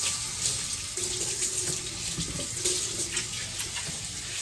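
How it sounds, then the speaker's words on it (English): Running kitchen tap water splashes over hands being washed at a sink, a steady close rush of water with small shifts in flow as the hands move through the stream. "Let me wash my hands again."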